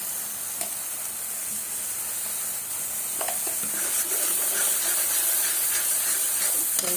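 Ground spices such as cumin powder fry in hot oil, making a steady, close sizzling hiss that swells slightly as it goes on, with a few soft stirring scrapes and no voices.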